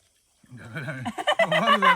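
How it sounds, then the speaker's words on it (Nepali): After a moment of silence, a bird in a jungle gives loud, honking calls, starting with a wavering call and then a rapid series of sharp honks. "चराको आवाज"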